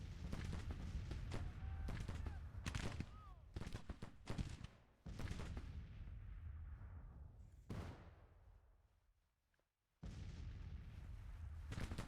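Gunfire from a Civil War battle in the Grand Tactician video game cracks out in repeated sharp volleys and booming reports, with decaying rumbles and brief lulls between bursts.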